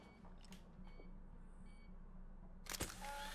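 A camera shutter fires at the end of a timer in the It Takes Two video game, a sharp click-burst near the close of a steady game-ambience hum, with faint beeps and tones earlier.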